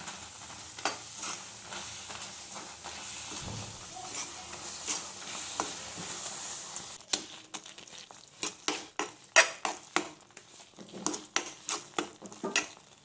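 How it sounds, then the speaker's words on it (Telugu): Grated dry coconut stirred into a paste for purnalu filling, with a steady soft scraping and wet mixing texture that turns into a run of sharper, distinct strokes in the second half. "ఇప్పుడు దీన్ని ప్రాపర్గా మిక్స్ చేసుకోవాలి."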